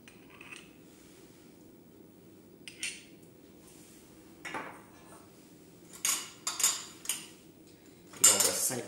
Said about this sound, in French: Et on va simplement venir agiter tout ça.